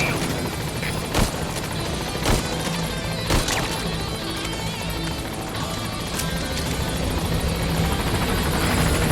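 A Pequod transport helicopter in Metal Gear Solid V arrives at a landing zone, its rotor thudding loudly and continuously with a steady low drone and a few sharp knocks along the way.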